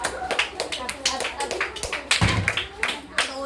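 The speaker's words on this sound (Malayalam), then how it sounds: "കൈയടിച്ച് പ്രോത്സാഹിപ്പിക്കടാ." Several people clap in quick bursts to cheer on children racing through a bottle challenge at home; the uneven, close claps are mixed with excited talking throughout.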